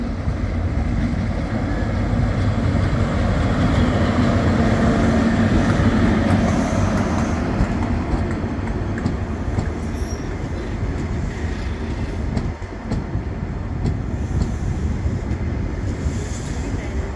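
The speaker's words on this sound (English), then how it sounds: "This train is formed of 5 coaches. Platform 2 for the 1538 ScotRail service to Perth." ScotRail train at a platform in Edinburgh Waverley station, a loud continuous low rumble and hum of the train with faint squeals and wind noise, steady throughout.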